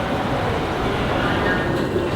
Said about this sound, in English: So this is the metro system.